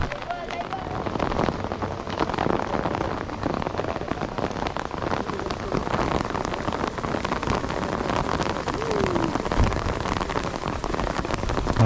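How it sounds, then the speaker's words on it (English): Heavy rain, mixed with hail, pours steadily onto surfaces around a crowd of spectators at a Vuelta cycling race, a dense, loud, unbroken hiss of drops that holds constant from start to finish. "I don't have to tell you that the rain's getting heavier. You can hear it, I'm sure."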